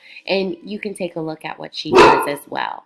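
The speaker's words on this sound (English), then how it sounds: "Sorry, I apologize for my dog." A pet dog barks several times nearby, loud yips and bow-wows bursting between and over a person's steady talking.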